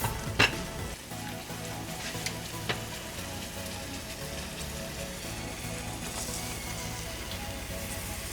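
Hotteok, a sweet Korean filled pancake, frying in a pan: a constant low sizzle with scattered pops and crackles, a sharp clatter near the start and a few small taps, no one speaking.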